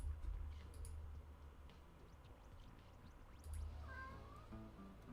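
A cat meows close by during a late-night stream, a short bent cry near the end over low room noise and scattered faint ticks.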